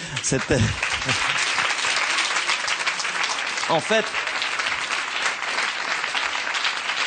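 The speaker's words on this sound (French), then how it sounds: "On va applaudir ses souvenirs." Steady, loud audience applause fills the clip, with a voice speaking briefly over the clapping at the start.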